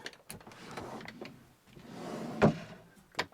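A drawer in a Carthago Chic C-Line motorhome kitchen slides along its runners with a soft rumble and stops with a dull knock, followed by a quieter tap, close by.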